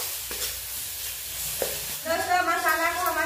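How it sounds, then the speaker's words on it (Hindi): Spice masala loosened with a little water frying in a pan, with a few scraping stirs, then a steady close sizzle that grows louder and takes on a bubbling whine near the end. "सारे मसाला हम एक ही साथ फ्राई करेंगे।"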